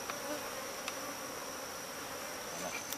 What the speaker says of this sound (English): the rest of the bees begin swarming on his arm